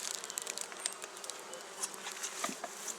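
Honey bees swarming close around a top bar hive, a dense, continuous buzz with individual insects whining past the microphone, fairly quiet and with no voices.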